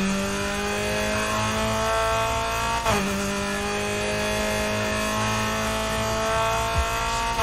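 A car engine imported into a Need for Speed game sounds as a loud, continuous harmonic drone, holding steady revs with a sudden pitch shift partway through, with no talking.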